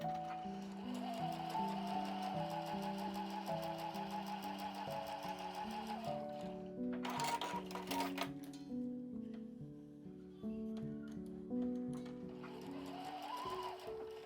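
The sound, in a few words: sewing machine stitching the opening of a shoulder bag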